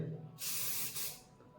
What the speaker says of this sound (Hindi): ये एक हेयर स्प्रे है